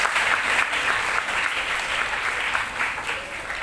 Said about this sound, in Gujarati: આપણે સૌ એમનો ફરી એક વખત તાળીઓથી સ્વાગત કરીએ.